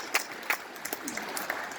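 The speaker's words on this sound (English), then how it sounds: "I want to give these guys a round of applause" Scattered, fairly faint applause from a gathered audience at a football honors event, a few distinct claps standing out over a thin wash of clapping.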